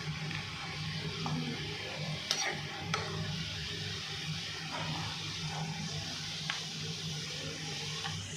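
Chicken achar frying in a pan with turmeric, giving a steady close sizzle with scraping stir strokes and a couple of sharp utensil knocks, no talking.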